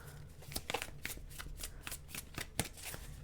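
A large, bulky deck of cards being shuffled by hand, with dense, papery riffles and flicks in quick irregular bursts, close up and alone.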